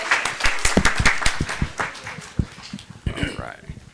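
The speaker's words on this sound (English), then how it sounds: "Nice round of applause for our communications officer," A round of applause at a school district board meeting, a burst of dense clapping from a room of attendees that thins out over about four seconds, mixed with a voice beginning to speak near the end.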